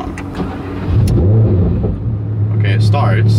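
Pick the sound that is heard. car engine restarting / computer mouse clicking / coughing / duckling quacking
car engine restarting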